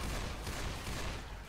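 Continuous shotgun fire and chaotic combat noise from the zombie co-op game Left 4 Dead, loud and dense throughout with no individual shots standing out and no voices.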